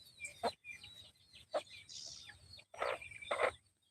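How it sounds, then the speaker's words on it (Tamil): Several short clucks and squawks from free-range country chickens at close range, coming in bursts with brief quiet gaps between them, in a garden. "நாட்டுக்கோழி"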